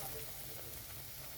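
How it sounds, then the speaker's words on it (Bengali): Battered cauliflower chop lowered into hot oil gives a soft, steady sizzle and hiss, faint and continuous throughout without a clear start or stop. "তো এখন আমি দিয়ে দিচ্ছি তেলের মধ্যে।"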